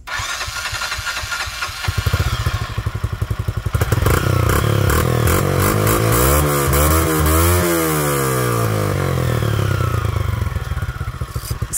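Close motorcycle engine with a modified exhaust fitted with a tip ticks over, then a sharp jump in loudness as it revs repeatedly, pitch climbing and dropping in long sweeps.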